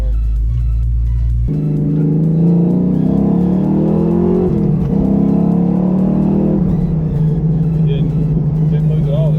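Fox Body Mustang driving on a test run, its engine rumbling steadily and loud up close, with a harmonic drone that rises and settles as it accelerates and cruises; voices talk over it.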